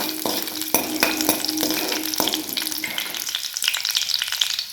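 Mustard seeds frying and popping in hot oil for a Marathi ghol leafy-greens dish, with sharp crackles and a few spoon stirs over a steady close sizzle.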